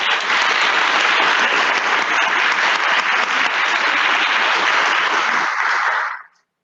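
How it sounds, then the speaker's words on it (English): Audience applauding a winner at the Young Women with Bright Futures 2021 ceremony, a dense, sustained burst of clapping from many hands that holds steady for about six seconds and then quickly fades out. "Let's give a round of applause again for our winner."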